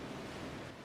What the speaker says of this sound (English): The sound of gulls and crashing waves reaches your ears once more.